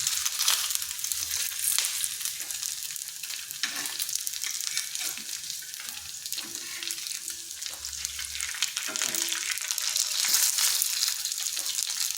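Potato and semolina snacks fry in hot oil with a steady, close sizzle and crackle lasting throughout, occasional stirring or turning noises, and no one speaking.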